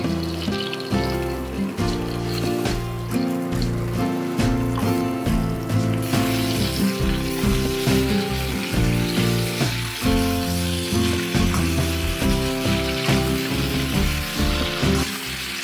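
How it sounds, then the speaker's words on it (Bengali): Potatoes rubbed with a little salt and turmeric, then mixed vegetables, frying in a pan for a Bengali katla fish curry: a steady, continuous sizzle running throughout under prominent melodic background music, with no talking. "আলুতে হালকা একটা সোনালি কালার এলে বাকি সবজিগুলোকেও আমি দিয়ে দিচ্ছি"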